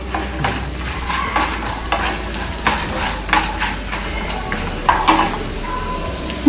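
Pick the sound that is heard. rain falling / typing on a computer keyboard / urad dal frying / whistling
urad dal frying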